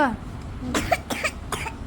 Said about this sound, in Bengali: কাশি সর্দি কত কিছু লেগেছে